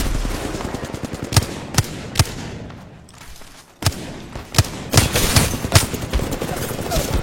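Gunfire in a video game firefight: sharp single shots and bursts crack out irregularly, loud and close, with a brief lull midway before dense firing resumes, and game voices chatter throughout.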